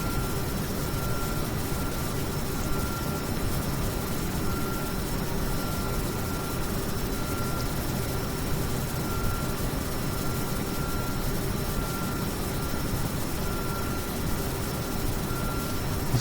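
Aircraft engine in a flight simulator cruising level at 5,000 feet, a constant, even droning hum with steady tonal whine, unchanging throughout and heard alone.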